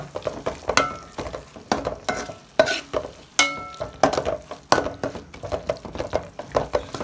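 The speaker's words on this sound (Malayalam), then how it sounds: "ഇത് നമുക്ക് നല്ല രീതിയിൽ മിക്സ് ചെയ്ത് എടുക്കാവുന്നതാണ്" A spoon stirs a vegetable curry seasoned with fennel powder in a pan, with a soft sizzle of frying underneath. Irregular scraping strokes repeat up close throughout, and no one speaks.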